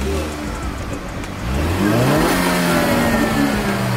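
A car with a stock exhaust revs nearby, its engine note climbing sharply about halfway through and then holding a loud, steady whine.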